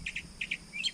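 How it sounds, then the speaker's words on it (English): A bird in a tree near a bridge at Toledo Bend calls agitatedly, giving quick repeated pairs of high chirps at a moderate distance. "That bird is going crazy."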